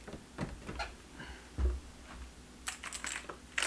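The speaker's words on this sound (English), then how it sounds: "Here's the keyboard that I was using." Typing on a backlit USB computer keyboard gives scattered key clicks in short bursts, close and fairly quiet, with no talking.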